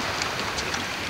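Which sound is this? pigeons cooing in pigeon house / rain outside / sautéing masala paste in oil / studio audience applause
rain outside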